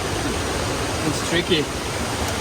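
Rushing water from a jungle waterfall forms a steady, dense roar that fills the scene, while a person speaks briefly over it.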